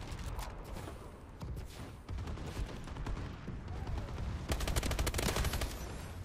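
Rapid automatic gunfire and scattered shots crackle through a Call of Duty: Advanced Warfare multiplayer match, bursts overlapping and growing denser and louder toward the end.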